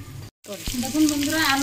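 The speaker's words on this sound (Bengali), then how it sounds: "আলু ভাজা হয়ে গেছে, এইবারে নামিয়ে নেব। লাল লাল করে ভেজে নিয়েছি" Potatoes frying in hot oil in a home kitchen, a steady close sizzle that cuts out briefly after a soft start, then returns fuller and continuous.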